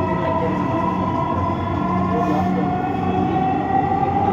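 Dhaka metro rail train running, heard from inside a carriage: a steady, loud rumble of wheels and motors with a sustained tonal hum, continuous and even throughout with no speech.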